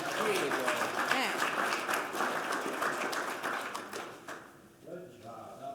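An audience at a school event claps and applauds for several seconds, with cheering and talk mixed in before it thins out near the end.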